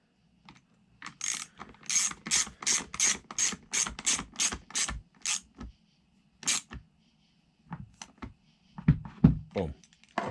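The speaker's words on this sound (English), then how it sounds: "You're tightening down plastic to metal." Ratcheting a tool to tighten plastic gas-line fittings against metal on a Stihl MS 210 chainsaw: a rapid, close run of clicking pawl strokes, then a pause and a few scattered clicks and knocks.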